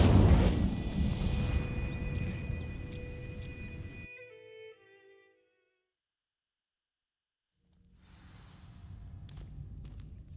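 Incendio fire spell cast in Hogwarts Legacy on Xbox Series S: a loud, dense roaring whoosh of flame with rumbling low end for about four seconds, cutting to silence, then a softer rumbling swell returns.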